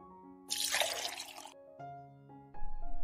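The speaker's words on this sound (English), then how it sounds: "She is pouring tea into a cup." Tea poured into a cup, a broadband liquid pour lasting about a second, close and fairly loud, followed by quiet tonal music with no speech.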